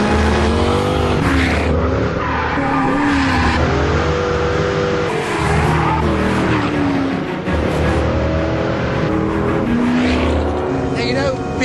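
A V8 supercar accelerates hard with a loud, sustained engine roar whose pitch climbs steadily through the gears over several seconds, close to the listener.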